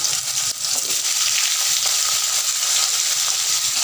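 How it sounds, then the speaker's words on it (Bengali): Potatoes frying in hot oil seasoned with panch phoron, a steady, loud, close sizzle with a crackling hiss that runs unbroken through the whole stretch, with no talking. "এবার আলুটা একটু লাল লাল করে ভাজবো"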